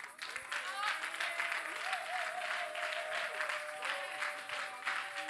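A worship congregation applauds together in steady, loud, continuous clapping that holds for the whole stretch, with voices and a sustained tone running underneath.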